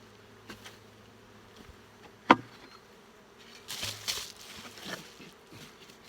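Honey bees buzz around an open hive, a steady insect drone swelling louder toward the end, with a sharp knock or clack of hive equipment partway through.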